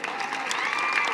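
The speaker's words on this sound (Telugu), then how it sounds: "గట్టి కొట్టాలి చప్పట్లు" Crowd of students and guests clapping at a bicycle distribution event in Nellore, a dense steady burst of applause that builds slightly, close and fairly loud.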